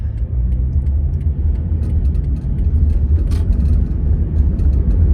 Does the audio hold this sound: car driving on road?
yes